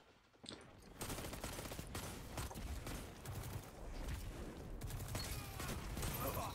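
Rapid bursts of Atalanta-D pulse rifle fire in Destiny's Iron Banner mode, dense repeated volleys starting after a brief quiet lead-in and continuing loud and close throughout, with mechanical clatter between bursts.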